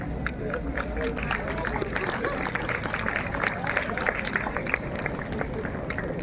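Students at a school Republic Day celebration clap for their teacher, steady dense applause throughout, moderately distant with faint crowd murmur underneath.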